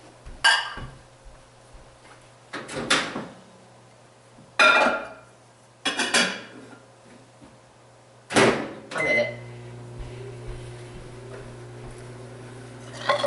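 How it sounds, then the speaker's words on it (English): A microwave oven softening butter: several door clunks and handling knocks, then a steady low electrical hum as it starts running, fairly close and without talk. "I'm going to put that in the microwave for probably just till it's melted or soft"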